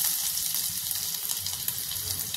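Ginger dropped into a spoonful of hot oil gives a steady, close hiss and crackle of frying with no talk over it, during the cooking of chicken chilli.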